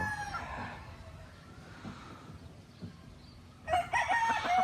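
A young stag gamecock crows once, near and clear at the end after a quiet stretch of faint background noise and distant clucking.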